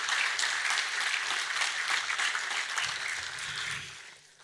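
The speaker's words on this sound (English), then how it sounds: "So let's give her a big round of applause in her absence." A round of applause from the audience at a high school graduation ceremony, bright, dense clapping that holds steady for about four seconds and then tapers away near the end.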